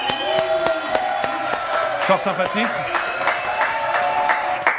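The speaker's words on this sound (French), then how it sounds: "Applaudissements." Studio audience applause on a French media news show, lively clapping with some cheers and whoops, a person speaking briefly over it.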